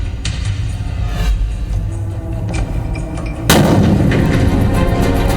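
A grenade is thrown at a house at night in Punjab. Rough noise is followed by a sudden loud, broad blast with a sustained roaring aftermath.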